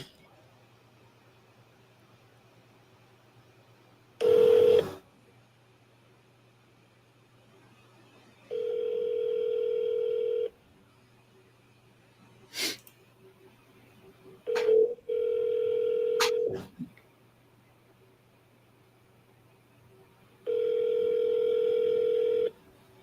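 A telephone call dialed out and left ringing, with steady ringback tones repeating in long bursts over a low hum, broken by a few sharp clicks and a brief loud burst near the start.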